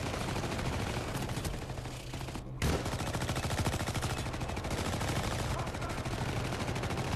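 Dense, loud automatic gunfire from the co-op shooter Syndicate fills the whole stretch in rapid continuous bursts, with one brief pause midway before the firing resumes.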